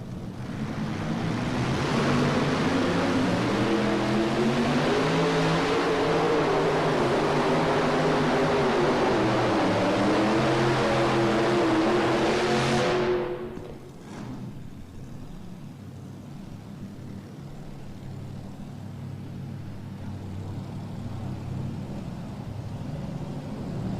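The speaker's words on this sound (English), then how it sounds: "that's the difference between 3 engines, 3 V8s when they're pulling against 4" Multi-engine V8 tractor pull machines pull hard at an indoor farm machinery show, a loud, sustained roar with wavering pitch bands that cuts off abruptly after about thirteen seconds, leaving a softer ambient hall rumble.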